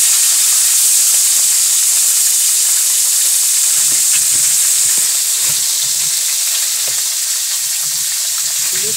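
Hilsa fish frying in hot oil in a heated wok, a loud continuous hissing sizzle with faint bubbling crackle underneath, close and steady throughout with no voices.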